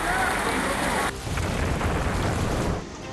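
A heavy Mumbai downpour with thunder makes a loud, dense roar of rain on surfaces that shifts in texture partway through and then continues strongly.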